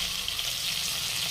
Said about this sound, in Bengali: আমার মাছের পিসগুলো ভাজা হয়ে গেছে